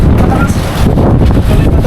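Snowstorm wind at a ski resort in winter, a loud continuous roar buffeting the microphone with gusty swells, steady throughout the short stretch with no voices.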